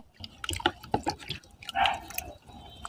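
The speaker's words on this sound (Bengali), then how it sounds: "এই যে কন্দগুলোকে জলের মধ্যে সুন্দরভাবে ভালো করে ধুয়ে নিতে হবে" Dahlia tubers rinsed in water to clear off the soil: a few close drips, splashes and wet squishing sounds in short irregular bursts, with quiet gaps between them.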